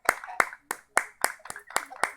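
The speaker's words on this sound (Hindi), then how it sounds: "परमेश्वर के लिए तालियां बजाएंगे" Rhythmic group clapping at a Hindi church gathering praising God, about eight sharp, evenly spaced claps close by, with voices faintly mixed in.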